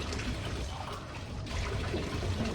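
Tap water runs in a steady broadband rush, a constant hiss-like flow with no pauses throughout.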